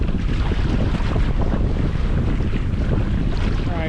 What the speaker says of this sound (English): Sails are up, we're sailing.